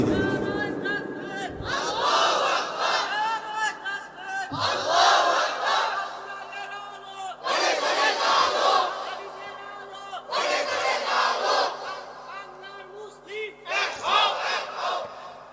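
Large crowd at a religious gathering chanting slogans in loud, rhythmic bursts, several rounds of massed voices rising and falling with short gaps between them.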